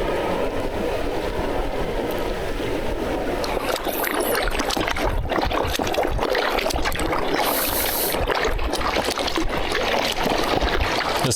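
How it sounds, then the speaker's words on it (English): Boat wakes slap and splash against the shore of the northeast inlet where fallen trees lie in the water, an ongoing churn of lapping and trickling water at close range. "That sound is the sound of boat wakes crashing against the shore."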